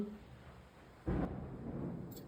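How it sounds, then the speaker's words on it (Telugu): Rain falls at home as a low rumble of thunder rolls in suddenly and lingers faintly over a quiet background. "మా ఇంటికాడ వర్షం పడుతుంది ఫ్రెండ్స్"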